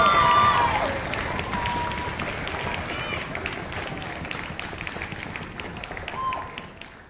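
An audience gives a thunderous round of applause after an introduction at a performance, dense steady clapping that starts loud and gradually thins out, with no talking.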